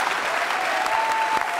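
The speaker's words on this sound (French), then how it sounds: "Applaudissements pour Pierre Bellemare, mesdames, messieurs." A television studio audience applauds Pierre Bellemare, a dense, even wash of clapping that fills the short moment without pause.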